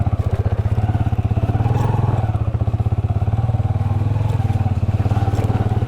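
A motorcycle rides slowly over a badly broken rural road between Kalar Saidan and Panj Pir, its engine thumping steadily and loud throughout, with occasional clatter and thuds from the rough surface.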